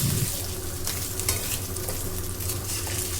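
Small fish pieces coated with turmeric frying in hot oil, a dense steady sizzle and crackle close by, loud and unbroken throughout, with no talking.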